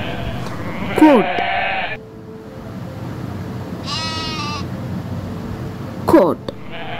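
A goat bleats in a wavering, nasal call, with a quick cluster of loud bleats near the start, a short strained cry in the middle and another bleat toward the end, over steady outdoor background noise.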